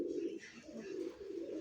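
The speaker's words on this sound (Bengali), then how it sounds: "হ্যাঁ প্রত্যেকটা কবুতরই ডাকবে মাশাআল্লাহ।" Local desi pigeons cooing softly, a few low, rolling coos repeating in quick succession, fairly faint and close, with no talk.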